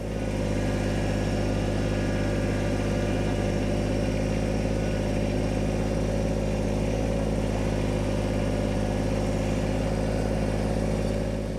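A vehicle's engine runs in two-wheel drive on a snowy road, a loud, steady low drone and hum that holds level throughout with no voices.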